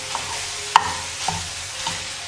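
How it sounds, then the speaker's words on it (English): A plastic spoon stirs chicken curry in a hot pan, giving a low continuous sizzle with a few distinct scraping knocks, one sharper than the rest, and no voices. "You can use a plastic spoon to kind of move everything around, get those juices flowing in there."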